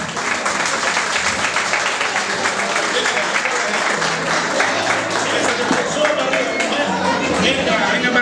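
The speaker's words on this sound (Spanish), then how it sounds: "Un aplauso fuerte para esta señora." Loud, sustained applause from a large crowd at a 2018 parranda music night in Agüimes, with clapping and excited chatter running underneath the whole time.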